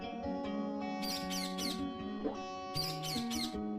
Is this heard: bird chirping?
yes